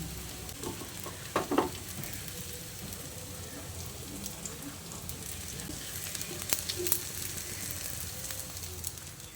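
Soybean kebabs frying in oil give a steady, soft sizzle throughout, with a few brief louder crackles and pops, no talking.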